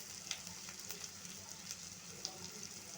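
Ginger paste, tomato, chili and turmeric powder frying in oil for hilsa curry, a soft, steady sizzle with light crackles and occasional faint spatula taps, quiet and continuous.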